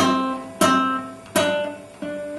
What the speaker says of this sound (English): You don't want that twangy sound